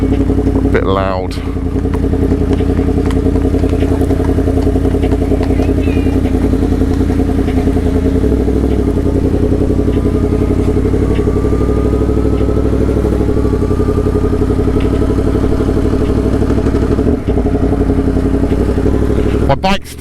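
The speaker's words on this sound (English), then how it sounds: "My bike's still too fucking loud." BMW M1000R motorcycle engine running loud off road, a close, constant rumbling roar with rising and falling revs throughout.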